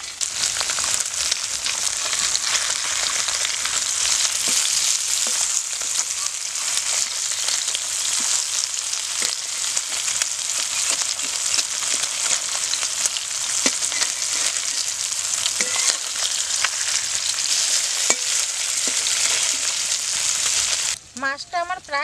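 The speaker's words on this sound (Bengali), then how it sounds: "মাছটা আমার প্রায় ভাজা হয়ে গেছে," Amudi fish frying in hot oil in a pan, giving a steady, loud sizzle with crackles throughout and a few stirring scrapes near the end; no talking.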